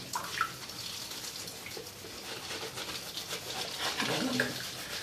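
Hot water running from a tap while the inside of a painted mug is scoured, a steady rushing splash with faint scrubbing and clinks, fairly close.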